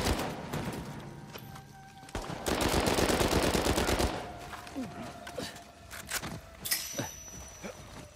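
Gunfire rattles through an Uncharted 4 multiplayer match, with dense machine-gun bursts and scattered single shots for several seconds, loudest in a rapid sustained burst midway, mixed with game effects and occasional voice sounds.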